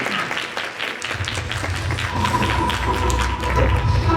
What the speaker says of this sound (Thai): ขอเสียงปรบมือต้อนรับนายแพทย์